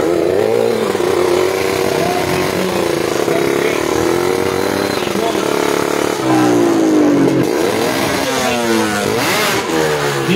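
A racing motorcycle at the Batangas circuit revs hard through rising and falling engine sweeps, loud and close, over roughly ten seconds with steady mid-pitched engine roar underneath.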